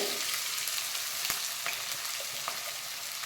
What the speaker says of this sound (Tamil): ஆனியன் நல்லா வதங்கணும்.